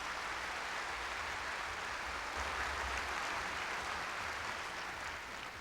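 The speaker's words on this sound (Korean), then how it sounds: "119 소년소녀 합창단에게 다시 한번 따뜻한 박수 부탁드리겠습니다" Audience applause for the 119 children's choir at a 42nd Fire Service Day ceremony, a continuous, moderately loud wash of clapping from a large hall that swells slightly midway and carries no voices.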